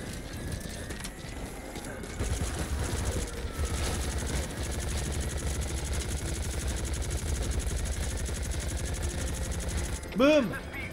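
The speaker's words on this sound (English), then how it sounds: "Please support helicopter requested." A support helicopter in Metal Gear Solid V The Phantom Pain thrums with steady rotor chop and engine drone for several seconds, loud and continuous, before a brief tonal game sound near the end.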